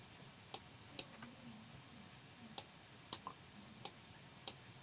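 A computer mouse button clicks about eight times in a quiet room, each click sharp, isolated and irregularly spaced, with no talking.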